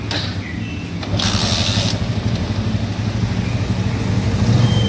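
A Honda Megapro motorcycle engine sputters and runs roughly at idle after being kick-started, a close, uneven chugging that grows slightly louder, with a brief hissing burst near the start.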